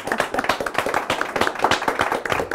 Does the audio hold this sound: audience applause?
yes